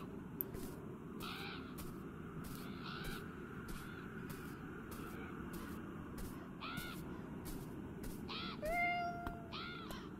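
Several crows caw in scattered bursts in a video game over a constant low outdoor rumble, some calls fairly distant, a couple closer and louder near the end.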